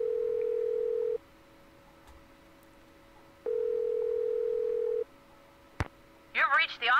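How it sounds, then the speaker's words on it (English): A steady tone on a telephone line plays in two long pulses with a gap between them while a call is placed in a Nancy Drew video game. A click follows, then a brief voice comes in at the end. "Tempted to try."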